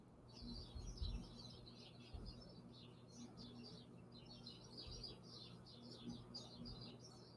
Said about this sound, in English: Yeah, the birds are awake again.